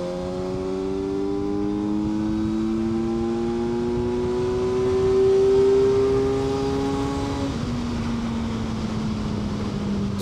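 A Kawasaki Versys 1100 SE motorcycle in fourth gear pulls hard from about 4000 rpm. Its steady engine note climbs in pitch for several seconds, then drops with a gear change, loud and close, with no talking.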